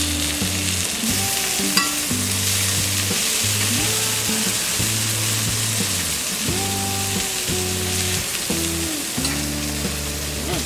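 Cluster bean sabzi sizzling steadily in an uncovered pan, a dense, constant frying crackle running throughout with a low hum beneath and no voices.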